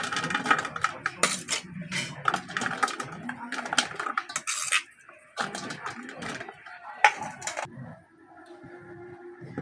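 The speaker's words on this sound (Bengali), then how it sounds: "প্রথমে আমি ভেজে রাখা সবজি দিয়ে দিচ্ছি অল্প করে।" A metal spatula clatters and scrapes against a pan as fried vegetables and rice are stirred together for fried rice, with irregular close metallic clinks and knocks and a quieter stretch near the end.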